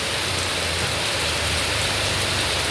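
Heavy afternoon rain pours down steadily, a dense hiss filling the whole stretch, loud and even with no voices.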